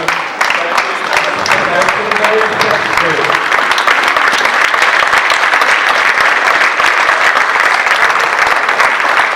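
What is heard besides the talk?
audience applauding loudly at a fashion show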